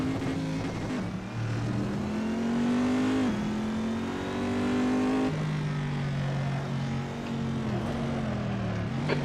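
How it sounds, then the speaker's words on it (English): A race car engine in a racing video game roars steadily at high revs, pitch climbing and dropping sharply at each gear shift, loud and continuous. "Predominantly is the engine noise"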